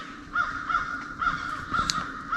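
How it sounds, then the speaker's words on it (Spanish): Crows caw repeatedly in Spanish bushland, raising an alarm at something approaching; about five harsh calls in an irregular series sound at moderate distance over a steady background hiss, with no one talking. "No sé si logran escuchar los graznidos de los cuervos."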